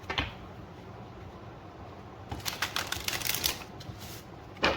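A rapid riffle of cards being shuffled, a brisk fluttering burst in the middle followed by a couple of sharp snaps, otherwise quiet.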